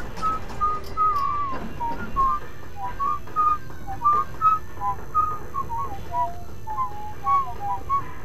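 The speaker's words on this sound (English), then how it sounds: "You can walk around and you hear him whistle." Duke Nukem whistles a jaunty tune in Duke Nukem Forever, a clear, steady melody of short warbling notes over faint background ambience.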